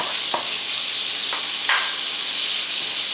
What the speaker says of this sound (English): this one will cook longer than the other type of sausage, but I'm gonna put them in the same pan